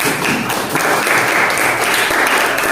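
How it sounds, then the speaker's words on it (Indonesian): A roomful of people in a classroom applauds, dense steady clapping that fills the whole stretch without pause. "ya tepuk tangan"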